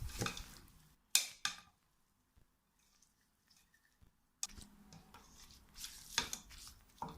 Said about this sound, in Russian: Теперь нужно все тщательно перемешать